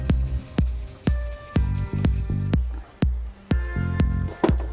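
A Rust-Oleum spray paint can hisses in a steady series of short bursts, each one starting with a sharp click. The sprays are used for spray paint art and run close and loud, with no talking.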